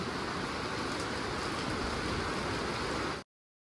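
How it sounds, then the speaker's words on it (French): Steady December rain falls outdoors as a continuous, even hiss of drops that holds at a constant level for about three seconds and then cuts off abruptly. "En plein mois de décembre, il pleut."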